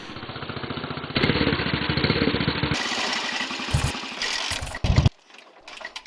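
A Honda motorcycle engine putters rapidly and rhythmically up close, revving up and down before abruptly cutting out near the end.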